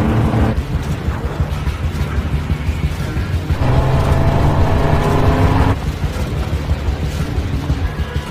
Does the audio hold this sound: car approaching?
yes